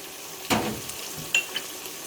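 Green chillies and spices for masala bhindi hitting hot oil in a pan, a sharp burst of sizzling followed by quieter frying and a couple of light utensil clinks against the pan, close and without speech.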